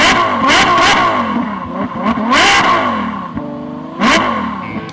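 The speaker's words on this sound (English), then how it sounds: "Start your engines." Race car engines roar and rev in repeated loud surges, several bursts of acceleration rising and falling over a steady, close mechanical drone, with no talking.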